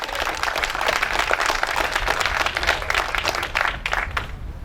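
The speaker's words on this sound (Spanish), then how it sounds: "Dale aplauso a Jesús." A church congregation claps for Jesus during an evangelistic service in Salinas, 2014, dense loud applause filling the room throughout before tapering at the end.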